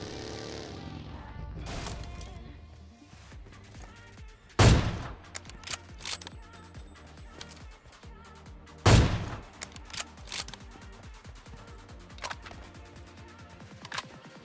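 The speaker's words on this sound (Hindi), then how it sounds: "तो अभी लेफ्ट में ना फायरिंग का साउंड आता है" Gunfire from PUBG on the Erangel map rings out in scattered bursts, with two loud close shots standing out amid quieter distant pops and clicks, without any voices.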